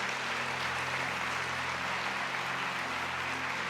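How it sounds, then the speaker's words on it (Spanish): Applause from a church congregation during a Spanish-language service, a continuous wash of many hands clapping at steady loudness with a faint low hum underneath. "¿Podrías darle un aplauso, Señor?"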